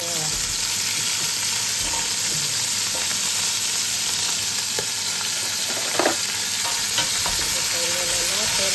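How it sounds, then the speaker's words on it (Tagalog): Constant, strong sizzle of carrots frying in a pan fills the whole stretch, with a few light clicks and scrapes of stirring. "yung carrots para sa mas prito na siya."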